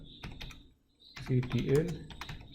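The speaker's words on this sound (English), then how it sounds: "To do that, type systemctl" Keys clicking on a computer keyboard as a command is typed into a terminal, in quick irregular bursts, with a voice speaking underneath.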